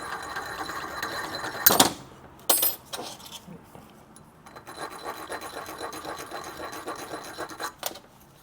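A hand file works the edge of a bushing in a 4L60E transmission, with quick rhythmic rasping strokes close by, broken by two sharp metallic clinks before the filing resumes.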